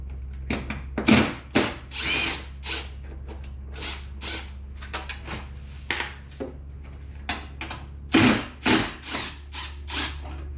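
A power drill with a 10mm socket spins out headlight bolts on a 2004-2008 Ford F150, with several short whirring bursts separated by pauses and faint handling noises, close up.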